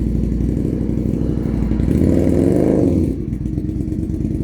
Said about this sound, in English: When the motorbike goes, it's like wacky races the day.